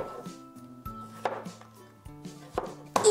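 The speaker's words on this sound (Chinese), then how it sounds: "雪梨用盐搓洗干净后，再把它给切小块啊" A washed snow pear being cut into small pieces on a board, a run of sharp knife chops at an uneven pace, close and clear with no talk.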